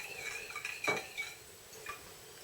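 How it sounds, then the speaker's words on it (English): A spoon stirs almond essence into cooled coffee, giving a few light clinks and scrapes against the container, with one sharper tap in the middle; quiet and close, with no talking. "Give that a good mix up in the coffee"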